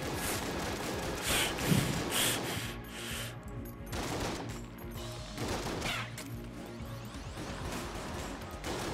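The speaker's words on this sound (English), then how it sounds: "Burst shotgun!" Burst shotgun firing in the video game Enter the Gungeon: dense, crashing volleys of game gunfire with loud rapid blasts and clattering effects filling the whole clip, no talking.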